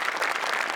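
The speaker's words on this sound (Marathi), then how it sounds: "जोरदार टाळ्या स्वागत करा" Audience applause welcoming a guest on a Marathi comedy sketch show, dense steady clapping from a studio crowd filling the short moment without talk.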